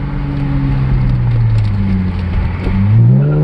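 Cadillac STS engine fitted with a new exhaust, accelerating hard: a loud, steady low engine drone that climbs in pitch near the end as the revs rise, with no voices.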